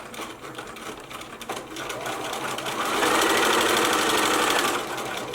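Sewing machine stitching a sewalong project with the needle running against fabric coils, a close, continuous whirring that builds in the middle and eases slightly near the end.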